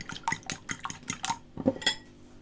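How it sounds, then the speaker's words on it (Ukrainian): Two eggs whisked with a fork in a bowl for oat pancake batter: a quick, close run of sharp clinking taps against the bowl, roughly a dozen strokes in uneven rhythm. "беремо два яйця і просто ось так вилочкою їх збовтуємо"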